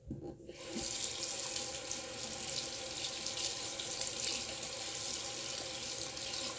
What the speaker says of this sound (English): So you want to make sure rinse it under cold water.